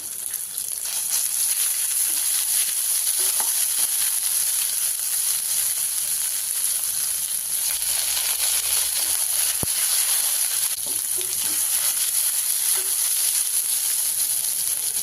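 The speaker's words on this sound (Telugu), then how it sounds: "ఇప్పుడు పాన్లో మూడు స్పూన్లు ఆయిల్ వేసుకుని కొద్దిగా ఆవాలు అర స్పూన్ అల్లం వెల్లుల్లి పేస్ట్ వేసి" Mustard seeds and ginger garlic paste frying in hot oil in a pan for kofta curry, a loud continuous hissing sizzle with faint scattered pops, steady throughout.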